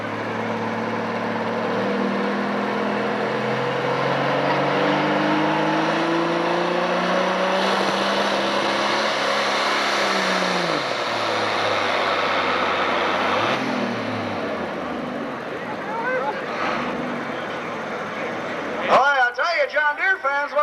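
A John Deere pulling tractor roars down the track at a 1996 Freeport, Illinois tractor pull in the 10,000 lb class. The loud engine climbs steadily in pitch, drops off around the midpoint, then shifts abruptly near the end, with an announcer talking throughout.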